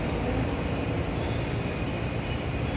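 A commuter train on a Jakarta-area line toward Bogor rolls along with a steady rumbling roar and faint wheel squeal, heard from inside the carriage throughout.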